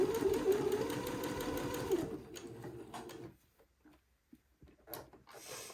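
A sewing machine runs steadily for about two seconds while stitching the curved armhole of a baby day dress. It then stops, and a few scattered clicks and handling sounds follow in near quiet.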